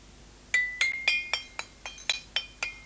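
Glass jars filled with coloured water struck one after another, about a dozen bright ringing clinks at varied pitches in a quick, uneven melodic sequence, close and clear with nothing else around.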